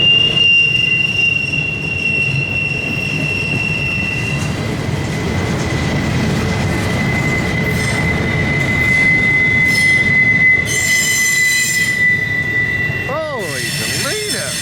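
A long train rolls past at close range near Mance, Pennsylvania, with a loud, continuous rumble of railcars and high, sustained wheel squeal that ends in wavering screeches.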